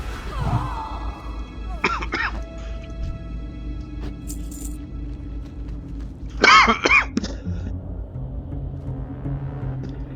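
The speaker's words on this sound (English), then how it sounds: "I have a lingering cough from a cold" Two bouts of close coughing from a lingering cold: a short pair of coughs early, then a louder cluster of harsh coughs later, over a quiet steady hum.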